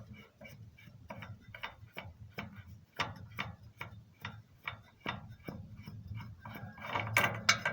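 A wrench ratchets as it loosens the nut on a scooter variator, giving a close series of sharp, evenly spaced clicks that grow busier toward the end.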